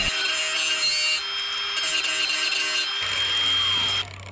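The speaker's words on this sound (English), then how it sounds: "I'm going to grind this down so I can get a good weld into the thickness of the metal and on both ends of this pipe and the main pipe" A grinder works down the end of a metal pipe to prepare it for welding, giving a steady, close, high-pitched abrasive whine that shifts tone midway and cuts off near the end.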